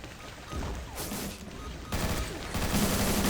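Sustained automatic gunfire from a gun in the shooter XSHOT, a loud, continuous roar of shots that swells in steps as new bursts begin, with faint talking beneath it.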